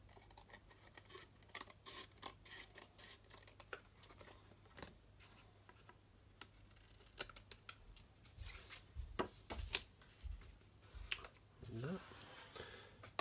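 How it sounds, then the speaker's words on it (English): Paper snips trim excess cardstock from a round piece in a Stampin' Up! craft project, a string of faint, close crisp snips and rustles under quiet background noise. "I can just chop off the excess with our paper snips"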